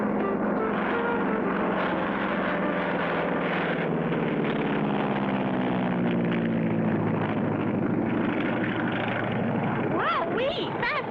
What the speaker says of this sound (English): Wowee! Fast takeoff, Clutch.